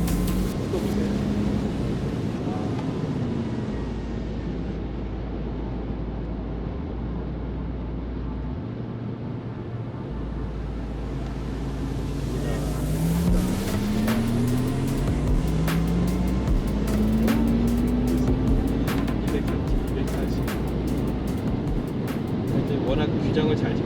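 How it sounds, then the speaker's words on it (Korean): A new Porsche Taycan electric sports car accelerates hard on winter tires up to about 240 km/h, its electric drive whine rising in pitch over steady road and wind rumble, with people talking over it. "이게 지금 일렉트릭 스포츠 사운드. 소리가 이렇게 울리는 소리가 나면서 달려나갑니다."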